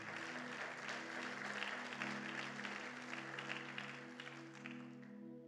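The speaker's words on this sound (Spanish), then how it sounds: "dar un fuerte aplauso al Señor" A church congregation applauds together at a worship service, a steady broad wash of clapping that holds loud for several seconds over a low sustained organ or keyboard drone.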